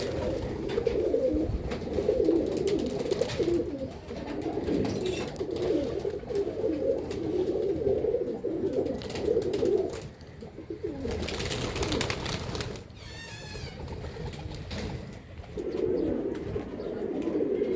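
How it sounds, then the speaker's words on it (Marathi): Dense, continuous cooing from many pigeons close by, a low rolling murmur with wing flutters and brief bird calls, pausing once before resuming. "भरपूर कबूतर आहे त्यांच्याकडं"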